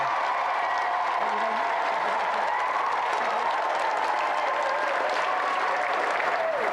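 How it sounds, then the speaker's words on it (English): GamesMaster TV studio audience applauding game winners Emily and Michael Glebe, a sustained, even roar of many hands clapping with a faint musical tone running beneath it. "So let's have another round of applause for Emily and Michael Glebe."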